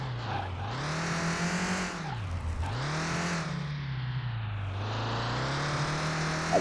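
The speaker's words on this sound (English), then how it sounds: "the car does seem to over rev before it can get new gears" A car engine in Car Mechanic Simulator over-revs between gear changes, loud and close, rising and dipping several times with a faint tire squeal, and no talk over it.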